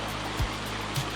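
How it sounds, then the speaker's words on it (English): A small stream flows at a footbridge on a woodland trail section, giving a steady broadband rush of running water that stays even and fairly close, with two brief low thumps and no talking. "Pretty little stream flowing."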